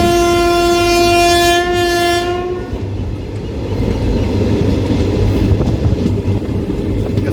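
An unreserved express train on the Mannargudi–Mayiladuthurai line crosses nearby, its loud sustained horn blaring for about two and a half seconds before giving way to the steady rumble and clatter of passing rail cars.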